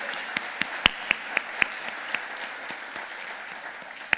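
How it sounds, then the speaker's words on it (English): A round of applause at the 2015 Peoria Education Foundation Visionary Dinner. The clapping is fairly soft and sparse, with a few sharp, distinct claps standing out over a thin, steady patter. "One more round of applause"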